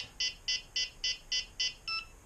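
An RC airplane transmitter for a WLToys Cessna 182 F949 model gives six evenly spaced high beeps followed by a final, differently pitched tone, clear and alone against a quiet background.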